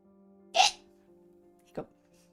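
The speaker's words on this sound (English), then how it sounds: "Hiccup." Two short hiccups, the first sharp and louder, the second softer about a second later, over a faint steady hum with no speech.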